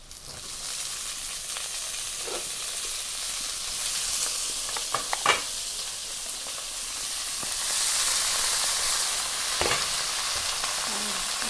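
Leafy greens hitting a hot pan with fried onion and ginger, a loud continuous sizzle that swells as they go in, with occasional stirring clatter and a brief spatula knock, no talk.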